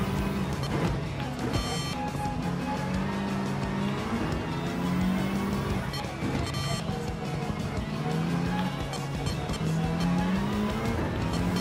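Race cars run in Gran Turismo 7, engines droning loud and continuous with repeated rising and falling pitch sweeps from gear changes and passing cars, with faint talk underneath.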